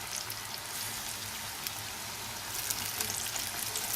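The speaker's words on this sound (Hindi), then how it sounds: "मैंने ऑयल गर्म होने रख दिया था डीप फ्राइंग के लिए। अब मैं ये जो आलू हैं इनको इसमें डालूँगी।" Potato fries drop into hot oil for deep frying, setting off a loud, dense, steady sizzle with crackling bursts that swell slightly toward the end, heard up close with no talking.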